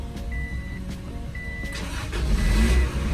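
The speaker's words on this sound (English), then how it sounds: "I'm trying to jump it right now." An Acura Integra hooked to a second car by jumper cables cranks in short bursts, then catches and revs up, its engine settling into a loud, close idle with no talking.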